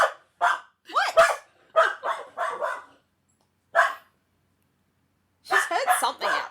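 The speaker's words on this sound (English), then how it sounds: "So she's running to the door, barking at it, and then running to me and barking at me, and then running back to the door." A dog barks at the door in a house, sharp barks in quick bursts, some doubled, loud and close, with pauses between volleys.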